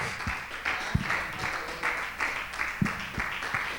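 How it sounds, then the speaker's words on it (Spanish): Rhythmic congregational clapping at a Spanish-language church service, fairly faint and distant, with regular claps and some low thumps under the steady patter. "Dele fuerte las palmas al Señor."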